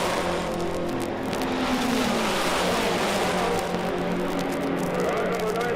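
Race cars roaring and accelerating at the start of the 1963 Indianapolis 500, a loud continuous engine drone with shifting pitch over crowd noise and an announcer's voice.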